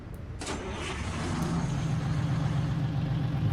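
A big Detroit Diesel 92-series engine in a Kenworth 521 truck in American Truck Simulator cranks and catches, then settles into a steady low rumble that builds slightly in loudness.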